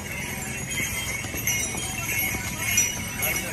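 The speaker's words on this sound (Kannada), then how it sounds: "ಸದ್ಯಕ್ಕೆ ನಾವು ಕುದುರೆ ಮೇಲೆ ಹೋಗ್ತಾ ಇದ್ದೀವಿ" Horse hooves clip-clop steadily on the pilgrimage trail to Kedarnath as a rider travels on horseback, the footfalls blended into busy outdoor noise and background voices.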